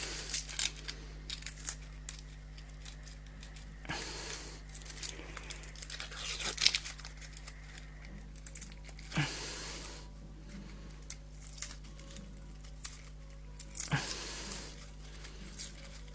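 Papery outer skin is peeled off a red onion in short bursts of crackly tearing and crinkling, spaced across a quiet kitchen with pauses between pulls.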